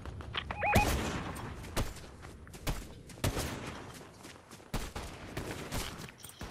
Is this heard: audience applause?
no